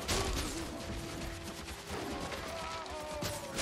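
Rapid gunfire from a Norn ranger character in the video game Guild Wars 2, a dense fast fusillade of shots and impacts running continuously under game sounds with a brief quieter stretch midway.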